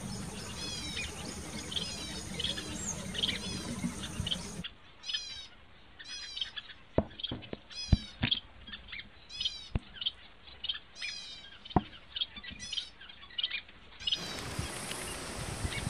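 Weaver birds calling while building nests: repeated sharp chirps and rising whistled calls, close and clear, sometimes over a dense noisy background and sometimes nearly alone in quiet.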